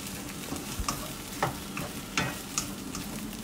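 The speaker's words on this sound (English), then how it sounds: "it's just about frying it up real good." Keto Chinese food fries in a pan, a steady close sizzle broken by several sharp scraping stirs of a utensil, with no talking.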